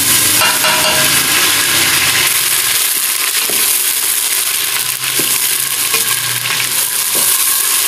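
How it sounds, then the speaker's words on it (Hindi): Garlic dropped into hot oil in a cooker sizzles and fries steadily throughout, a loud continuous hiss with occasional stirring clinks and scrapes, close by and with no voices. "तेल गर्म होने के बाद इसके अंदर हम डाल रहे हैं 1 टेबल स्पून लहसुन"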